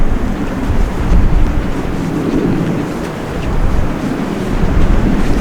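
Sea waves wash onto a beach in summer as wind buffets the microphone, a steady broadband roar with slow swells in loudness and no voices.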